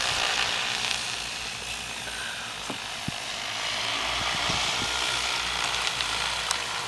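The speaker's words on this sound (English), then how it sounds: "that's a drone spray in the alfalfa field" An agricultural spraying drone flies over an alfalfa field while applying organic repellent, giving a steady broadband propeller whir with a constant wind-like hiss that holds near and moderately loud throughout, with a few faint clicks.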